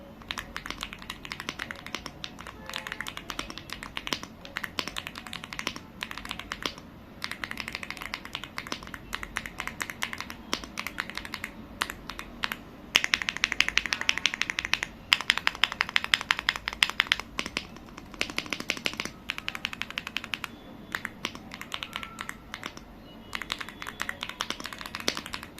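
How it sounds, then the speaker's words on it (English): Steady typing on an AULA F75 wireless 75% gasket-mounted mechanical keyboard with soft, smooth keys: a continuous run of close, crisp keystroke clicks and clacks with brief pauses and a denser burst midway, and no voices. "I'll start typing on F75."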